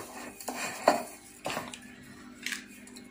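Spoon clinking and scraping against a bowl while garlic powder and spices are stirred together, a few distinct knocks spread over a few seconds at close range.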